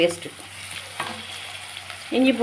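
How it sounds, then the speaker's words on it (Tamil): Ginger garlic paste sizzles and fries in oil with onions in a pan, with bursts of stirring scrapes, close and moderately loud, without speech. "பேஸ்ட்டு பச்சை வாடை புரிய வதக்கிக்கிறேன்."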